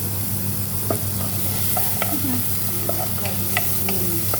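Garlic and onions fry in a pan for miswa soup, a continuous close sizzle with occasional soft clicks of a utensil stirring.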